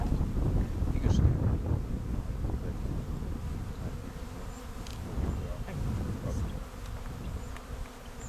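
Bees buzzing around hives in a backyard bee yard, a colony that may include killer bees, their steady drone low and continuous with faint wind noise and a few brief close passes.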